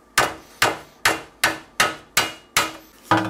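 Hammer blows on metal while working on an Eastwood bead roller stand, seven sharp, loud strikes at a steady, even pace, each ringing briefly before the next.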